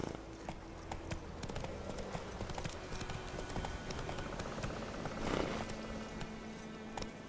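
Horse hooves clip-clopping at a gallop in a video game, a steady rhythmic patter of hoofbeats with game music and ambient effects underneath, moderately loud and continuous throughout.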